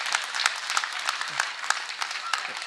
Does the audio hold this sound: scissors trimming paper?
no